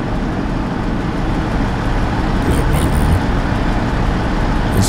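Steady road traffic in the video game American Truck Simulator drones nearby, a constant rumble of engines and tires with no breaks.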